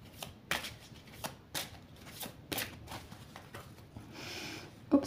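Oracle cards are shuffled by hand and then cut, a series of close papery riffles and slaps in uneven bursts, ending with a longer soft rustle and a final tap.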